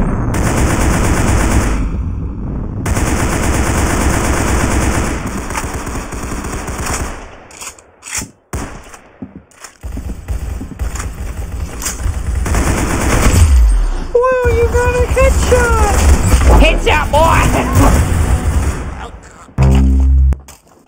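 Rapid automatic gunfire fills a round of the Roblox game Arsenal, loud bursts with brief pauses, then game effects and music as play continues.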